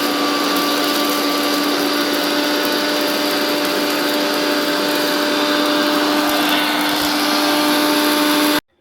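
An electric grinder whirs loudly and steadily at a high pitch while powdering spices and chillies for raw mango pickle. It runs nonstop for several seconds, then cuts off abruptly.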